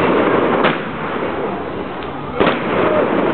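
Fireworks at a bonfire party, with a Meteor firework bursting: two sharp pops about two seconds apart over steady crackling and crowd noise outdoors, with faint voices in the background.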